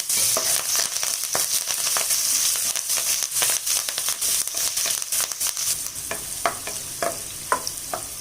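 Onion, green chili and curry leaves fry with cumin in a pan, giving a bright, close sizzle with frequent scraping clicks from stirring that thin out toward the end.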